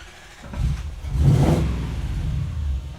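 A Toyota Hilux engine catches at about half a second, then settles into a steady low idle hum for the remaining seconds, moderately loud and close, with no talking.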